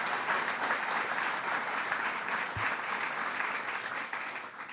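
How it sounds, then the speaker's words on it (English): Audience applause at a public announcement by a state governor about university health science plans, a brief, steady round of clapping heard from some distance with a single louder thump midway. "let's give a big round of applause to Harvey Stanger for his leadership and his"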